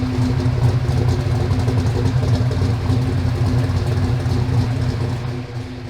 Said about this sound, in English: So you can hear the cars running.